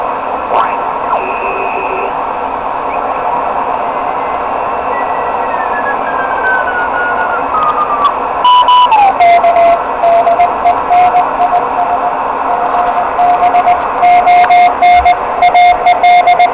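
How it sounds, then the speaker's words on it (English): A Morse code tone and static on an amateur radio band come through a receiver, with a steady hiss and a drifting tuned tone settling into keyed beeps, fairly loud. "See if it's going to start decoding the Morse for us or not."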